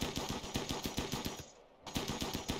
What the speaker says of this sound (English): What is it like with just the combat gun then?